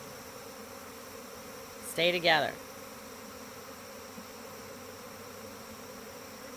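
A very large swarm of honey bees forms a low, steady, droning hum close by. A voice briefly speaks over it partway through.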